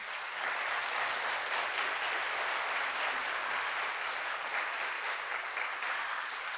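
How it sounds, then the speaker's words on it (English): Symphony orchestra audience applause for the funders, a steady, even wash of clapping that carries at moderate volume from start to finish without a break. "show your appreciation to all of those funders with your applause now"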